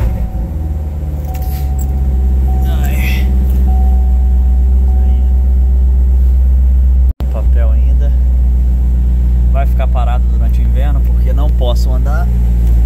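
A Chevrolet Corvette Grand Sport with a manual gearbox idles with a deep, loud, steady rumble right up close and never stops, while someone talks over it.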